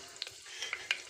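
Frying in a pan with light stirring, a faint background sizzle broken by a few sharp clicks and scrapes of the spoon against the pan.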